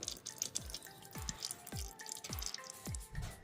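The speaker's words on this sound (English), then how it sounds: "Once the oil stops dripping, you're good to move on." Motor oil dripping from the drain of a 1994 Toyota MR2 during an oil change, a steady series of about six distinct drips at a regular rhythm, close and fairly quiet, with no talk.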